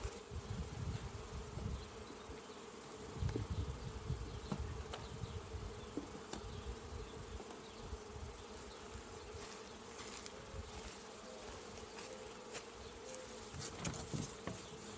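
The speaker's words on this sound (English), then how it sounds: "while these bees settle down" Honey bees buzz around a hive while a second deep box is being added, a dense continuous drone of many wings swelling and fading close by, with faint knocks and no talk.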